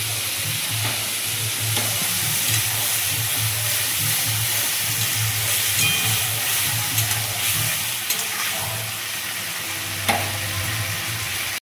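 Ground poppy seed paste fries in a pan with a loud, continuous sizzle and hiss, with faint stirring scrapes and no one talking.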